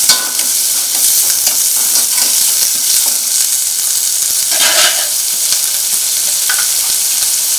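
Onions with curry leaves and salt sauté in hot oil, a loud, dense, close sizzle holding steady throughout, with occasional stirring scrapes rising above the hiss.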